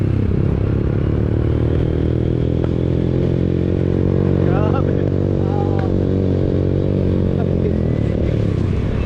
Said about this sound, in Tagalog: Makasakay tayo ng motorsiklo.